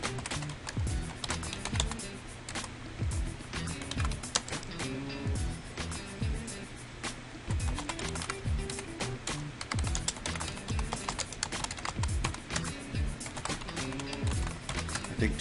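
Typing on a computer keyboard, rapid close clicking of keys in steady uneven bursts throughout, with a low hum underneath.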